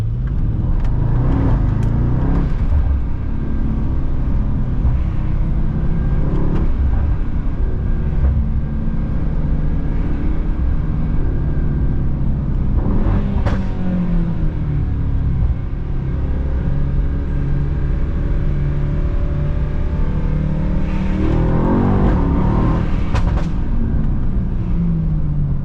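A Mercedes Kugel S600 with over 600 horsepower drives on a US road, its engine a steady close rumble that swells as it accelerates, with no voices.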